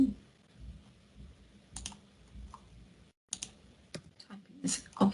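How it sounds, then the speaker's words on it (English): Computer keyboard typing while entering web page content in a CMS, with scattered bursts of keystrokes and quiet pauses, close to the mic, with faint room noise underneath. "Typing"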